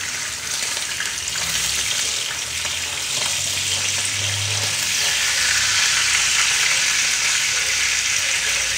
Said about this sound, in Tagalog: I'm cooking pork steak po.